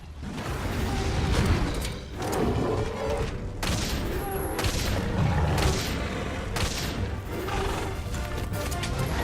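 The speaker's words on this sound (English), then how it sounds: "The rock-steady mantle allows our hunter to keep a steady hand whilst firing at the monster." A hunter fires a bowgun at a monster in Monster Hunter World, with dense repeated blasts and booms layered over loud, busy battle sounds throughout.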